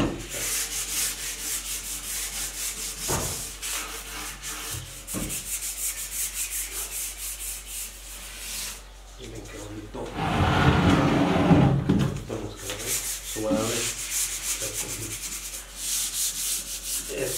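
Old wooden furniture is sanded smooth by hand, with repeated scratchy rubbing strokes that swell and pause, fairly close and alone, a louder burst of scraping in the middle.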